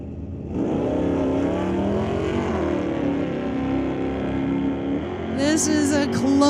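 Drag race cars, including a 1981 Chevy, start from silence into a loud continuous engine roar that holds for several seconds with fluctuating pitch, a brighter burst near the end, and voices partly mixed in.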